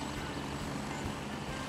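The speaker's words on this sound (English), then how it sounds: "I just can't hear anything over the helicopter." Military helicopter in Gray Zone Warfare thunders close by with a loud, steady rotor roar that fills the whole stretch without any letup.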